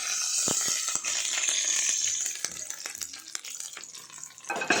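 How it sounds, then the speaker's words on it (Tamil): Mustard seeds and urad dal tempering in hot oil, a steady close hiss with scattered sharp pops and crackles, no talking. "எண்ணெய் ஊற்றிக்கோங்க. கடுகு உளுத்தம்பருப்பு சேர்த்துக்கோங்க."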